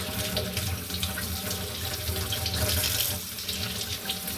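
A kitchen tap runs in a steady, close splashing stream over a freshly scaled and gutted crappie, continuous and fairly loud with no talking.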